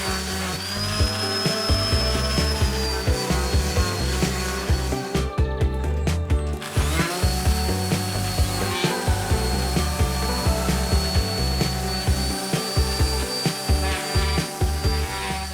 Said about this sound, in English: next, I've got to sand some bits of wood